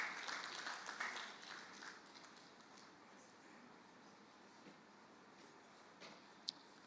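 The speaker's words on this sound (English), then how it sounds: "Let's encourage him one more time with a round of applause" A conference crowd claps in a burst of applause that starts fairly strong and slowly thins out, with a single sharp clap near the end.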